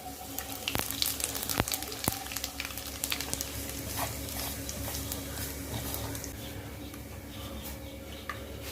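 Cumin, carom seeds and asafoetida sizzle and crackle in hot oil in a home kitchen pan, a steady close frying hiss with a few sharp pops and the clink of stirring.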